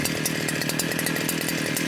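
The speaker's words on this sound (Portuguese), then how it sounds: "Fazer um vídeo aqui cortando a serra circular." A STIHL KA 120R cut-off saw fitted with a chainsaw-tooth circular blade runs at a steady, loud, close whine as it cuts, with no talk over it.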